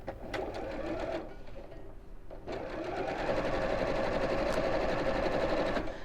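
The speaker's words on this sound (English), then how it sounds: "So pop those raw edges together and we'll sew." Domestic sewing machine stitching cushion cover fabric at a quarter-inch seam, a close steady buzzing whir that pauses briefly twice before running continuously.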